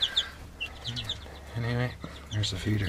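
Chickens in a heated coop give soft, scattered clucks and chirps close by, while a person talks briefly over them.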